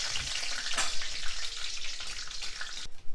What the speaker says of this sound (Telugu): ముందుగా ఒక 4 స్పూన్లు నూనె వేసి ఒక గుప్పెడు పల్లీలు వేయించుకోవాలి.